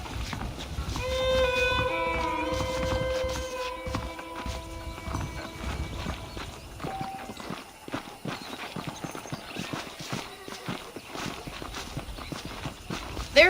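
Horse hooves clip-clopping at a steady walking pace in the Red Dead Redemption video game, with a horse whinny and soft game background sound, no talking.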